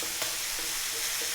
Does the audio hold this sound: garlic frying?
yes